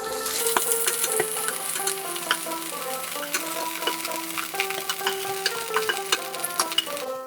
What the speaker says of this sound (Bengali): বেগুনগুলো ভাজা হয়ে গেছে, তুলে নিচ্ছি।